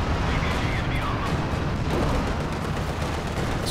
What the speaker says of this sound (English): The bunker busting barrage.